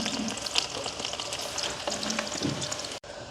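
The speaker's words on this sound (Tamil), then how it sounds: "நாங்கள் வெட்டி வச்சிருக்கிற துண்டுகளை வந்து பொரிய போடுவோம்" Cut pieces of vadai sizzle and crackle steadily in hot oil as they fry for a village-style vadai curry, a close, continuous bubbling frying sound with a brief stir near the end.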